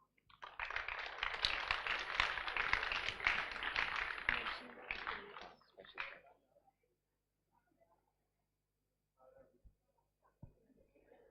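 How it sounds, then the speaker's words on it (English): A crowd at a school event gives a round of applause for a grade 5 student, a dense burst of clapping for about five seconds that fades out, followed by quiet and faint sounds. "A big round of applause."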